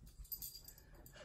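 A small terrier mix dog gives soft, brief whimpering whines indoors, faint and close, with a low room rumble beneath and no talking.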